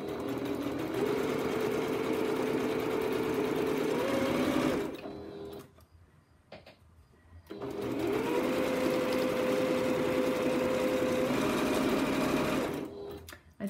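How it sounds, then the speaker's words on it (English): A sewing machine stitches a French seam a quarter inch from the edge, with two long steady runs of rapid mechanical whirring separated by a brief quiet pause, close up. "I'm going to start by sewing a quarter of an inch down the seam."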